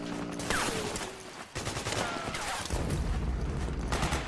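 Heavy gunfire in the video game Metal Gear Solid 4, dense bursts and rapid machine-gun fire layered with booms and mechanical clatter that run continuously and loudly, with faint voices mixed in.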